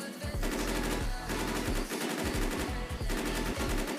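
Automatic gunfire rattles in rapid bursts while shooting zombies in the Roblox game Zombie Uprising, a dense, loud stream of shots with brief pauses between volleys.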